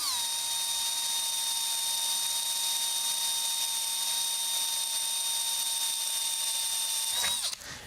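An electric drill whines steadily at high pitch, close and loud, running continuously before winding down abruptly at the end.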